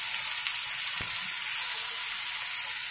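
Coriander and cumin powder fry in a pan for a vegetarian Malabar spinach dish, giving a steady, close sizzling hiss throughout. A single sharp knock of a utensil comes around the one-second mark.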